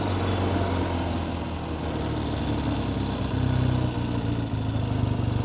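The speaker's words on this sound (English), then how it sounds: "I think these motors, about 650cc, parallel twin, air cooled." A 1970 Triumph TR6R with an air-cooled 650cc parallel twin engine idles steadily and close up, a low, even, throbbing rumble that swells slightly partway through.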